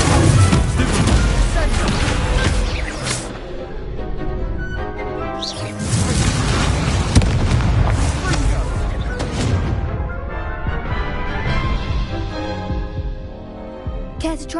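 Fire spells Incendio and Confringo from the video game Hogwarts Legacy go off as a string of loud, crashing fiery blasts, several heavy bursts spaced a few seconds apart amid dense, busy game sound.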